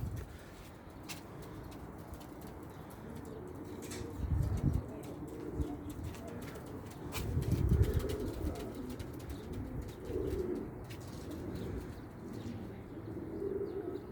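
Pigeons coo softly in low, throaty murmurs, with occasional chirps and brief wing flutters rising and falling around them, no talking.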